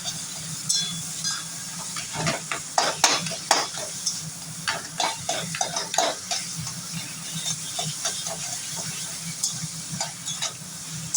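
A fish head is stir-fried in a pan for a Bengali dish, with a constant sizzle under repeated scraping strokes of a spatula, close and moderately loud with no voices.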